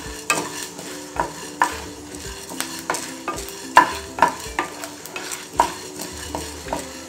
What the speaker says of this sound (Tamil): கொஞ்சம் ஜீரகம், கருவேப்பிலை நம்ம போட்டு நம்ம வறுத்துடலாம்